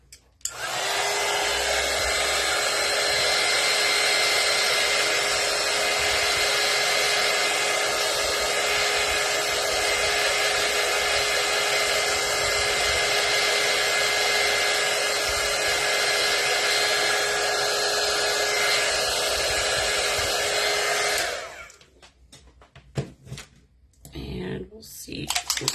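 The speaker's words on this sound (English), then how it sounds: "Heat gun." A heat gun used on a Tim Holtz ephemera holder craft blows with a loud, continuous whooshing hiss and a high whine for about twenty seconds, then cuts off abruptly, followed by light handling clicks and brief talk.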